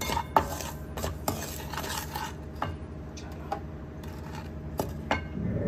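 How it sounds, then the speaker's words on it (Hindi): A spoon scrapes and clinks against a metal pan while semolina roasts in a home kitchen, with irregular stirring knocks and sharp taps over a steady background hum, close and fairly loud, with no talking. "अभी सूजी भून रही है।"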